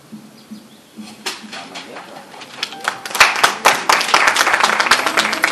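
Clapping from an audience at the IRAWMA nominee announcement starts sparse, then builds into dense, loud applause that continues to the end. Faint bird cooing sits in the background.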